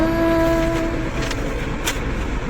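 A train rumbles steadily nearby with a sustained horn-like tone at the start, then continuous rolling rail noise.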